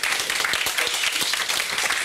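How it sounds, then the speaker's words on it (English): Warm round of applause from a lecture audience welcoming a speaker, a steady crowd of hands clapping with individual claps audible, moderately loud and continuous throughout. "please give him a warm round of applause"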